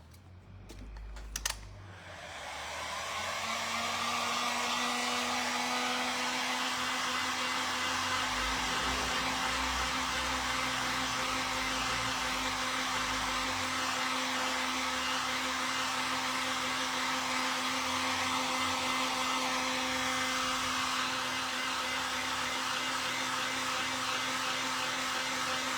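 Hair dryer switched on to dry a vintage pumpkin lolly jar: a brief click and rustle, then a steady loud whirring blow with a high whine that runs on evenly.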